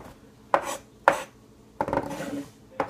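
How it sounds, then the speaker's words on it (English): A 5-inch knife minces cilantro, garlic and tomato on a board in four crisp, separate chops, close and clear with pauses between them and no talk. "We're gonna be mincing the cilantro. We're gonna mince our garlic. We're gonna mince our tomato."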